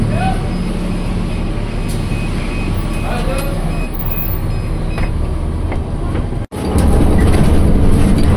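A TransJakarta bus pulls away from the Manggarai stop in Jakarta, its loud engine rumble and road noise continuous from inside the cabin, with faint chimes and a brief dip near the end.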